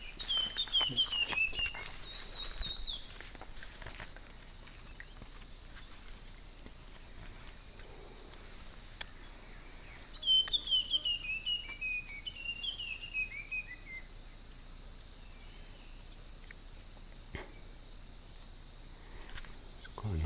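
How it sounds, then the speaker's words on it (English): In a jungle, a bird gives two bursts of clear, descending whistled notes, one at the start and another about halfway through, over a quiet, steady background hum of the forest. "Quite a nice bird there, you can hear."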